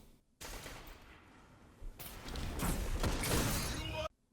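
Sustained bursts of gunfire from the video game Destiny 2, with a loud stretch of rapid shots followed by a denser, heavier volley before cutting off abruptly.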